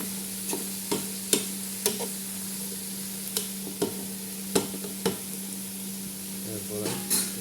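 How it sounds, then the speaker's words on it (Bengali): Spices being stirred into hot oil for a tuna fish curry, with repeated sharp spoon-against-pan scrapes and clicks over a steady low sizzle and hum, close and moderately loud. "তেলের সাথে এগুলো সব মিক্স"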